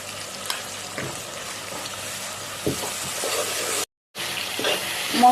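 A little water poured into a pan of frying chicken masala with ginger, garlic and onion gives a steady close sizzle with crackling bursts, a brief gap, then renewed bubbling hiss.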